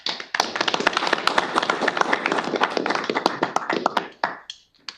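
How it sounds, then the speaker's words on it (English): Meeting attendees at a board of governors meeting break into steady applause, many hands clapping close together for about four seconds before the clapping tapers off to silence. "I think we should give him a little hand"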